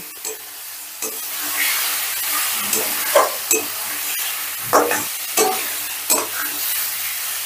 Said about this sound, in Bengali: এবার আলুটাও মশলার সাথে একটু মিশিয়ে নেব